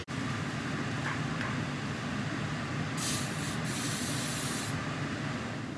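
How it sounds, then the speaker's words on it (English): Several short bursts of cooking spray hiss close by into baking pans, the longest lasting over a second, against a steady background hum. "I'm gonna spray it with palm so the bottom doesn't stick"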